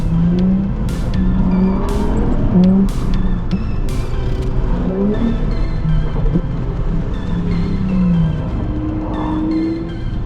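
Nissan 350Z driven through tight corners in second gear, engine note repeatedly rising and dropping with frequent gear shifts, loud and close, with brief tire chirps and occasional voices in the background.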